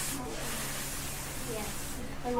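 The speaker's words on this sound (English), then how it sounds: "we're gonna be spraying." Brake cleaner is sprayed onto car brakes, giving a continuous close aerosol hiss that runs steadily for a couple of seconds with faint background voices.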